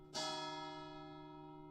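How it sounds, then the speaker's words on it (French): A single stroke of a chapel church bell ringing noon, a sharp near strike followed by a long humming, slowly fading resonance with no other sound around it. "quand les cloches de la chapelle sonnaient midi"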